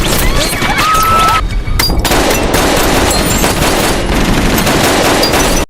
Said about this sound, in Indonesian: Fransko dari gerbong seberang melepaskan tembakan ke arah mereka